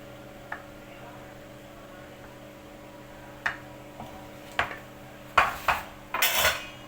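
A spoon scrapes and clinks against a dish as rice is served onto Alexandrian fatteh made with bread, broth, vinegar and garlic. Sparse taps come first, then a denser burst of scraping near the end, with no talking.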